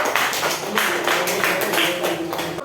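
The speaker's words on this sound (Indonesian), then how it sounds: "Kan berikan aplaus kepada kelompok." A classroom group is given a round of applause, steady clapping from several students that continues densely throughout.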